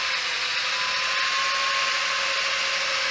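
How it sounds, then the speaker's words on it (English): A drill fitted with a polishing pad buffs a car headlight during restoration, a steady high-pitched whine with constant motor hum and a faint tonal drone, continuous and close, with no talk. "It's easier to control the drill if you just use one side of it"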